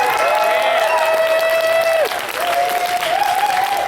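Convention panel audience applauding and cheering for the AV team, a dense, loud, steady wash of clapping with a sustained whistle or voice tone running over it.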